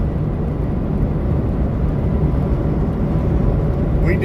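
A steady broadband roar of an airplane passing overhead, heard from inside a truck cab on a Kentucky road trip, blending with road and engine rumble and holding level throughout.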